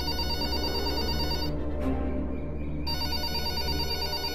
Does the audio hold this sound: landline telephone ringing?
yes